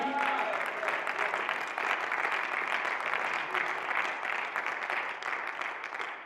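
A church congregation applauds and cheers in acclaim of God during a French-language service, a steady, dense clapping crowd that holds at an even level throughout, with some voices mixed into the applause.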